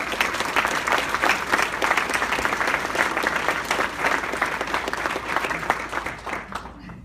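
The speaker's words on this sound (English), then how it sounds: "So please, let's give them a applause." At an evening event, an audience applauds the student services staff with dense, lively clapping that fills the room throughout and fades slightly toward the end, with a few voices mixed in.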